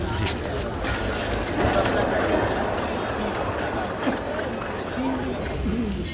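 Steady rumble of a departing train, with continuous low mechanical noise and rattling carriages throughout, voices speaking over it.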